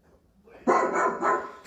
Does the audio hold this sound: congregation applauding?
no